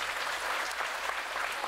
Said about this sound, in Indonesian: tepuk tangan saya kanggo Mbah Jambrong